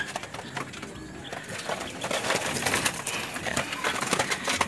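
Pigeons in a rooftop loft cooing and stirring as they are let out, a soft continuous murmur of coos with faint wing movement, close by and without talk.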